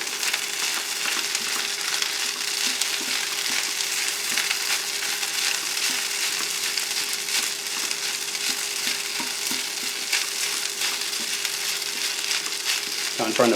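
Shrimp fried rice frying in a pan, pressed flat to crisp on the bottom while cooking in a tent, a loud continuous sizzle with scraping and crackles throughout.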